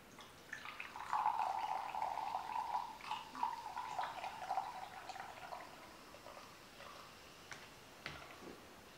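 Generic store-brand root beer poured into a glass, a soft trickling stream with light fizz that builds for several seconds, then tapers into scattered faint drips and bubbling.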